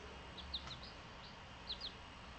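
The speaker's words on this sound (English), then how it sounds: "Here's one of my chickens." A Japanese pet chicken gives two short bursts of soft clucks and chirps, faint and slightly distant against quiet indoor background noise.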